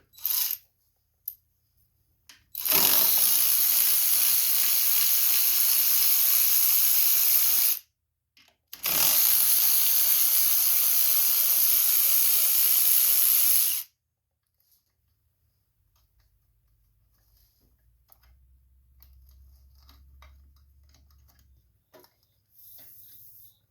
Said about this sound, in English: you will need a 10mm socket or wrench, whatever you're going to do, to take these two bolts off here